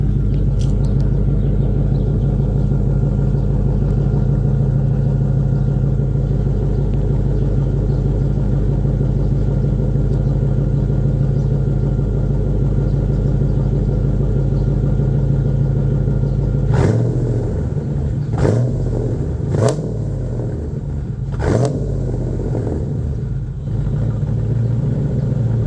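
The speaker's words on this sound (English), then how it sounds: "we'll do a short little rev here at the 6:30 mark" A 1991 Formula boat engine idles in a steady low rumble, then blips through several short, sharp revs near the end, loud and close with no talking.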